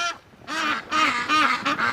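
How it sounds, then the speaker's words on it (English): Domestic ducks in a backyard flock on a very cold day quack loudly and repeatedly, several harsh, close nasal calls in quick succession with brief gaps between them. "they're really quacking a lot today, like a lot of quacking"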